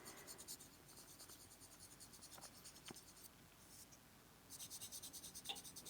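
A bluish charcoal pencil drawing on paper for a Zentangle pattern, a close, soft, dry scratching in steady bursts of strokes with a short pause in the middle.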